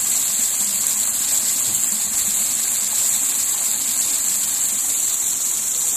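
Tsunami seawater rushing back in at Barangay Lipol, Balut Island, Philippines, a loud continuous roaring wash of water with a steady hiss, unbroken throughout.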